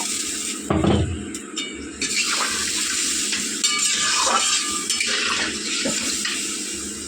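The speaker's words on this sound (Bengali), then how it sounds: "এবার স্বাদ মতো নুন দিয়ে জল দিয়ে এবার একটু নাড়াবো" Fish curry masala of tilapia with cauliflower and potato being stirred in a pot after salt and water go in, giving soft scraping and sloshing spoon sounds with a faint sizzle throughout.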